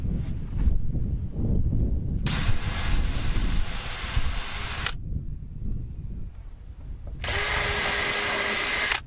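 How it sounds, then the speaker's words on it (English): A power drill pre-drills screw holes in lumber wall framing for a 16x40 off-grid cabin, running in two loud sustained whirring bursts of a few seconds each over steady low outdoor rumble. "So I will pre-drill to make it a little easier for the screws."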